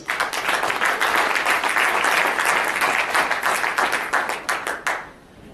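Audience applause fills a conference plenary hall on sport for development, a dense, loud burst of many hands clapping that thins into scattered claps before fading out at the end.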